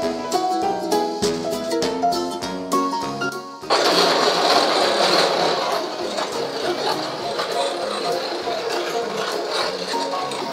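An inkjet printer with a sheet feeder runs a batch of sticker sheets. Brief tonal music plays first, then a loud, steady mechanical whirring and clattering carries on without a break.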